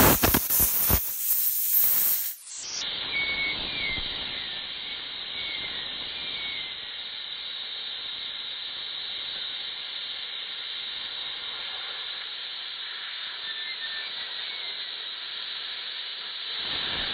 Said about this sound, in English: And then I'm going to use compressed air to hopefully get that stuff out.